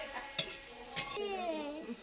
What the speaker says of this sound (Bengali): আর করলা ভাজা হচ্ছে।